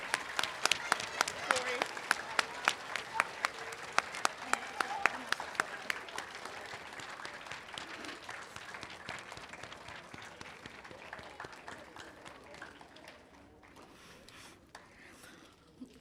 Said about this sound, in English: please give another round of applause to these amazing poets